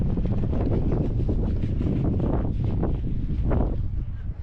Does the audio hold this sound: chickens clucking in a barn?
no